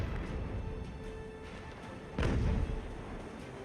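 Ship cannon fire in the naval battle game Ultimate Admiral Age of Sail, a single deep booming shot rising out of a low rumbling ambience, no voices.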